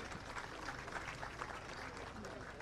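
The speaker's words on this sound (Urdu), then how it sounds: "بہت ساری تالیاں بھائی" Audience applause at an agricultural department ceremony, steady dense clapping that fills the whole stretch at a moderate, somewhat distant level.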